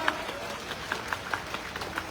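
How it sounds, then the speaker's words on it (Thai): Audience clapping at a charity mini marathon event in Lam Luk Ka, a scattered crowd applause with sharp individual claps standing out over a steady murmur. "ขอเสียงปรบมือด้วยครับ"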